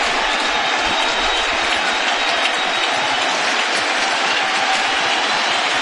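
Baseball stadium crowd at a Mets home opener roaring and applauding, a dense, sustained wash of cheering and clapping from a large crowd that holds steady throughout.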